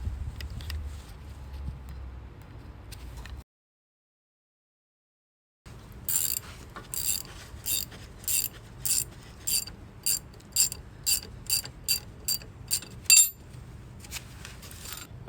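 A socket ratchet clicks in short, regular bursts while size 15 brake caliper bolts are undone on a Ford Transit Custom, a dozen or so distinct cranks close up in a quiet garage after a brief silence.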